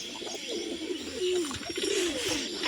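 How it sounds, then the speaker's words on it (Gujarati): A pigeon coos in a few soft, low, rolling phrases close by, clear over light background noise. "આવું આપણી પાસે કબૂતર છે"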